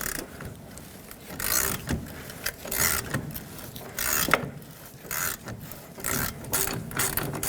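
Repeated ratcheting clicks in short bursts, a ratchet wrench working back and forth loosening a shock absorber mounting nut on a 2011-2016 Ford F-350 Super Duty, fairly close with small metallic clatters between strokes.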